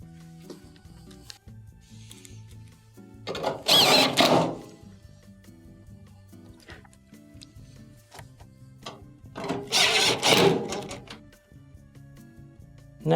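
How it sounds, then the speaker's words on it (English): Screws being driven back into the top of a Maytag dryer: two short whirring bursts from a driver about six seconds apart, with light ticking and handling sounds between them, close by. "Reattach your top 3 1/4" screws."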